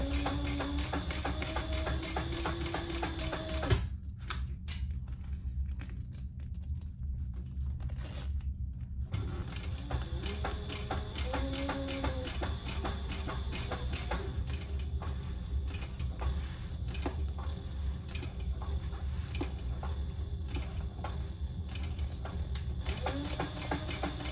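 A sewing machine runs a 1/8 inch top stitch along a fabric travel jewelry case, a steady mechanical whirring with rapid needle ticks that briefly pauses midway and then resumes.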